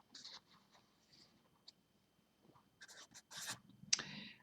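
Pen writing on paper in a math lecture, quiet scratchy strokes in short bursts with pauses, growing busier and louder toward the end, close and isolated.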